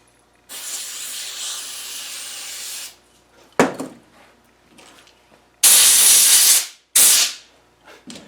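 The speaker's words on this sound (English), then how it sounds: "I'm just going to wash off that oil." Spray cleaner jetted at oily parts during an Adwest lightweight steering box rebuild: a long hissing burst, a short blast, then two loud sharp sprays separated by brief quiet and faint handling noises.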